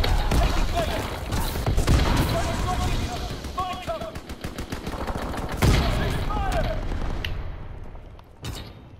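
Bursts of rifle and machine gun fire crackle near and far through a Call of Duty: WWII Domination match on the Shipment 1944 map, layered with thuds and game voice callouts.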